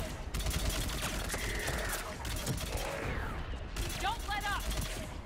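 Sniper rifle fire in Mass Effect 3 sounds amid a dense, continuous combat din of gunfire and explosions, with voices shouting over the battle and a bright electronic chirp near the end.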